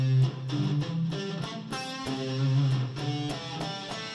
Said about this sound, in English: And so the C Major Pentatonic sounds like this.